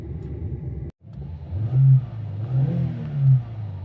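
A Mitsubishi Pajero Mini's engine idles close by, then swells into two or three strong revs before settling, with no voices over it.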